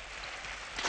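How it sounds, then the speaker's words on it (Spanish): Steady rain pours down in an animated cartoon scene, a soft continuous hiss of falling drops that swells slightly louder near the end of a brief one-second stretch. "¡Está lloviendo!"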